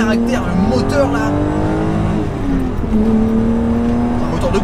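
A BMW M5 E28 sedan with its M1-derived straight-six revving hard on the move, the engine note climbing and dropping through gear changes, loud from inside the cabin with someone talking over it.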